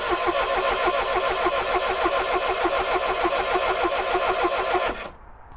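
An abandoned Triumph Dolomite's engine cranks in a fast, even rhythmic churn from the starter motor for about five seconds, then stops abruptly, close and loud with no talk.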